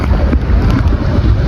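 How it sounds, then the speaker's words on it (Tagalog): Strong sea waves in high water at El Nido, heard as a loud, continuous wash and rumble with heavy wind buffeting the microphone. "Pero ang taas ng tubig and ang lakas ng alon din."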